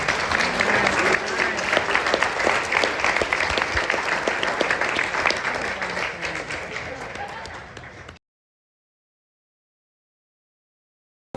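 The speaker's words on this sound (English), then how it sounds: "So applause to you." Applause from guests at a company Christmas party, a dense and steady clapping crowd for about eight seconds that fades slightly before cutting off into silence.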